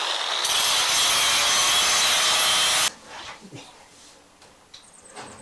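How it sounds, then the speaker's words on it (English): The sharp edge of metal mesh is ground down during a home build: a loud, harsh, steady grinding roar lasts about two and a half seconds, then cuts off, leaving quieter scattered handling noises. "the second to last thing that we need to do is just knock off the edge of all this metal mesh"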